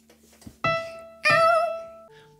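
A human voice imitates a cat, giving two drawn-out meows followed by a short, softer tone, with pauses between.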